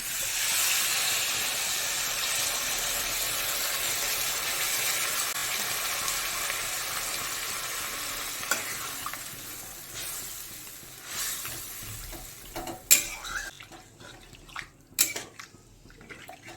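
Water poured into a hot pan of prawn and gathi kochu (taro) curry sends up a loud, steady hiss of sizzling steam that slowly fades, followed by a few sharp clinks and taps near the end.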